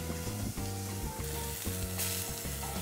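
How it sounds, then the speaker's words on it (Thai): Scallops sear in a hot pan, giving a loud, steady sizzle and crackle throughout, with faint rhythmic clatter of stirring underneath and no talk. "เวลาที่ลงกระทะก็ควรจะมีเสียงแบบนี้ครับเสียงฉ่าเนี่ยครับ"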